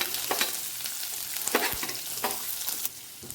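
Cumin, ginger-garlic paste and green chillies fry in oil in a pan, giving a soft steady sizzle. A few sharp stirring scrapes and clatters sound close by, and no one speaks.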